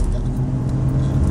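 A Mercedes-Benz GLE 450 SUV in sport mode kicks down from about 50 km/h, its engine note swelling into a loud, low, continuous acceleration roar heard from inside the cabin.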